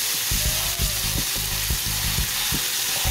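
Minced garlic sizzling in a hot pan while a spoon stirs it, a steady crackling fry punctuated by regular scraping strokes, close and loud with no talking.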